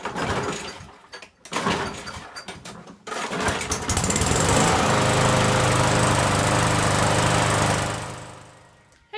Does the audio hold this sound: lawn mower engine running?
yes